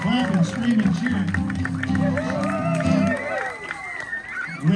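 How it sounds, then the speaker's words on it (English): A theater audience at a Wild West dinner show claps, cheers and shouts, a dense steady roar of applause and excited voices filling the room, fading somewhat toward the end. "Clapping, screaming,"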